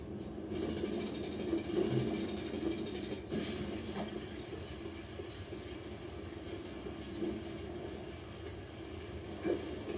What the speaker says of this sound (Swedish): Det låter som tåg.